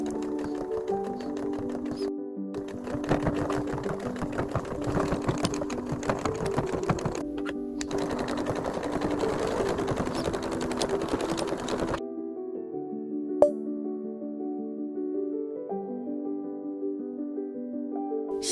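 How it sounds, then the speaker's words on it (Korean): A sewing machine runs a 2 mm topstitch along both sides of the centre seam of pouch fabric, its rapid mechanical stitching loud and close in bursts with two brief pauses, then stopping and leaving quiet handling sounds. "파우치 원단의 중앙 양쪽으로 2mm 상침합니다."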